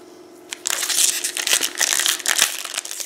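Foil wrappers of Magic: The Gathering Modern Horizons booster packs being torn open and crumpled, a close, continuous rustling crinkle with sharp bursts and no talk.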